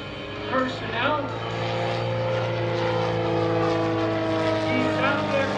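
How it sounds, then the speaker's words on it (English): An aerobatic propeller airplane performs at the 2021 Greenwood Lake Airshow, its engine a steady, loud droning roar throughout while an announcer talks over it. "he's out there in that airplane right now"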